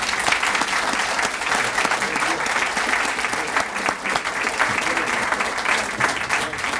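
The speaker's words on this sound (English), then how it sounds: "why don't we join me in a round of applause for the panelists" A full room applauds the panelists at the close of an officer leadership panel, dense continuous clapping holding at an even, loud level throughout.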